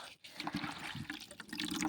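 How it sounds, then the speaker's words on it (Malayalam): Liquid squeezed by hand from a homemade hair-care mixture, with soft wet trickling and drips falling close by in a quiet room, steady through the short moment. "ഇത് നന്നായിട്ട് പിഴിഞ്ഞെടുക്കട്ടെ"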